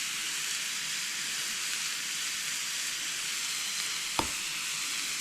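Pickled jalapenos simmer in a pot roast with a steady, close sizzle and hiss that runs throughout, broken by one small click near the end.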